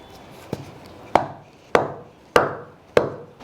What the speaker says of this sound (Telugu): అది కిలో బెల్లం కదండి, ఇంకొంచెం పడుతుందని ఇది కూడా కొడుతున్నాను.